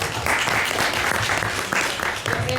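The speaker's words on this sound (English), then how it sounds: "I want to give that a round of applause." Brief round of applause from attendees at a Dallas city community meeting, steady clapping with some murmuring underneath for a couple of seconds.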